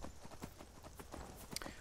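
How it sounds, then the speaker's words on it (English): Shadowmere, a fast dark horse in the Skyrim video game, trots with a steady clip-clop of hooves, evenly spaced thuds repeating quickly at moderate loudness over quiet game ambience. "we have acquired the horse, Shadowmere"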